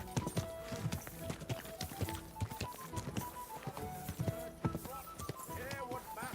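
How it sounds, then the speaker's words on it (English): Horse hooves clip-clop in a medieval video game, a brisk rhythmic clatter of hoofbeats over background music with a voice speaking partway through. "Easy, good horse."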